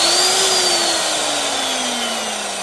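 A Refina Megamix electric mixing drill runs with a steady motor whine, loud and continuous, with a tone that slowly drops in pitch; its variable speed switch is faulty, giving only full speed or nothing.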